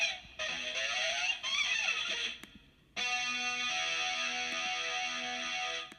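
A GarageBand synth track plays with distortion and modulation effects, buzzy sustained tones bending and wavering, cutting out briefly midway before a bright, dense chord resumes and holds.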